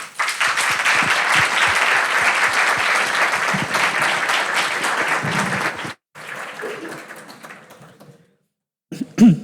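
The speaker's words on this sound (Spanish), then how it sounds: "muchísimas gracias al panel. Un aplauso" An audience at a panel event on sustainable taxonomy in Chile gives the panel sustained applause for about six seconds, with a few coughs in it. The clapping then thins to scattered claps and faint murmurs before a brief silence and a short final sound.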